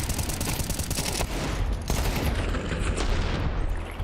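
Gunfire in Counter-Strike during a BLAST Open Porto esports match, a dense loud burst of rapid shots and rattling fire filling the whole clip with no talk.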